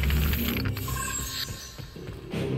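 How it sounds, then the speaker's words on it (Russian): A Knack 2 video game gives a talent-point reward effect as a brief ratcheting, clanking mechanical flourish, fairly faint, with other game noise around it and no talk. "это звук таланта был"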